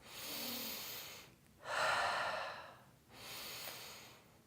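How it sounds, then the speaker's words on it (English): Two deliberate chest breaths taken during a diaphragmatic breathing demonstration, each a broad airy rush of about a second, the second louder and fuller, with a faint breathy tail between them and no talking. "I'm gonna take 2 chest breaths."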